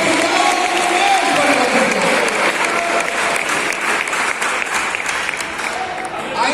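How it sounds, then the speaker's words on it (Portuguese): Congregation applauding at an evangelical church service, a dense continuous wash of clapping that holds steady for several seconds and eases slightly toward the end, with crowd noise mixed in. "Se quiser aplaudir o nome de Jesus, pode aplaudir."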